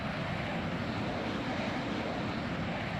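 Steady aircraft engine drone in Microsoft Flight Simulator 2020, a repetitive, unchanging broadband hum holding at constant level throughout with no voices.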